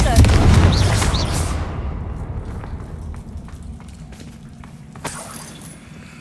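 A Confringo spell explodes in Hogwarts Legacy with a loud, deep boom that fades over a couple of seconds into a low rumble, then a small crackle of debris, near and on its own.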